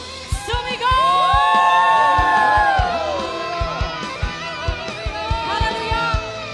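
A church congregation at a Filipino worship service shouts, whoops and cheers together, a loud sustained crowd roar over music with a steady beat, rising sharply after the first second and holding strong throughout.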